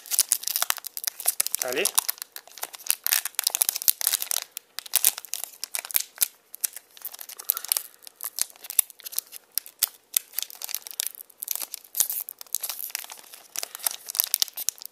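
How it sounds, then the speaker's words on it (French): A trading card booster pack from a Kuroko's Basket Miracle Battle Carddass box is torn and crinkled open up close, with scattered crisp foil rustles and rips throughout and a brief spoken word near the start. "Deuxième booster, je vais essayer d'ouvrir correctement si je peux."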